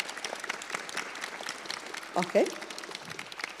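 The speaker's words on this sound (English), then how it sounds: "can I ask you for a short round of applause for our panelists for a start?" A short round of audience applause for panelists at a housing policy event, a soft, diffuse patter of hands under a speaker's voice, with a brief louder burst of talk partway through.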